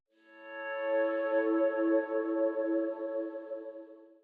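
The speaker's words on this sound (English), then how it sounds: "I went into the Ultimate Paint Multi Kit version 3 and I took out this little guitar accent that sounds like this." A sustained guitar accent sample from a paint loop kit, a shimmering chord swelling in and slowly fading over several seconds with echo and chorus-like texture, alone and moderately soft.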